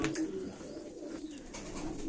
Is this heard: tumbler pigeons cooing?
yes